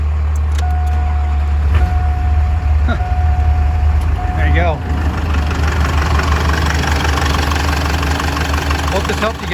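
Duramax diesel engine turning over and starting after fuel priming, then settling into a rough, steady idle; someone speaks briefly over the engine noise.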